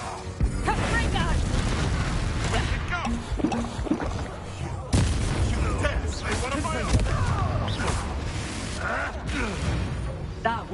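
Repeated Confringo spell blasts in Hogwarts Legacy combat, heavy booming impacts and crackling fire bursts overlapping with game music and voices, loud and continuous, with a sharp fresh hit around the middle.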